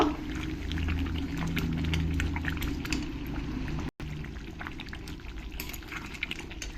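Chicken curry bubbles steadily in its own released juices in a pot, a dense, even simmer that cuts out for a moment and then carries on with soft stirring movements.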